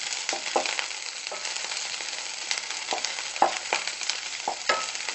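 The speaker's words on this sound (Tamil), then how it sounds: "அப்படியே தாளித்து ஊற்றிடலாம்." Steady hot-oil sizzling with little crackles and pops as spices are tempered for buttermilk sambar, close up and continuous, no voices.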